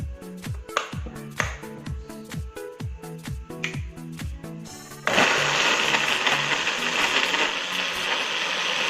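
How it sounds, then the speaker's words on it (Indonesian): A kitchen blender starts with rhythmic clattering pulses, then runs continuously at full speed with a loud, even whirring roar as it grinds a spice paste with added water for fried mie lidi. "Sekarang kita tinggal tambahkan air untuk memblender bumbunya."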